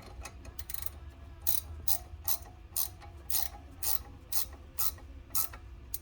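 Torque wrench ratcheting while tightening bolts during a front brake rotor and pad change on a 2016 Kia Sedona, giving a steady series of sharp, close clicks about every half second over low background hum.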